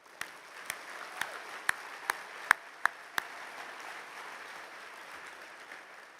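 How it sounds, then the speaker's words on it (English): An audience at a conservative political summit applauds veterans, a steady wash of distant clapping with about eight sharp, evenly spaced claps standing out close by. "We may even give them all a round of applause."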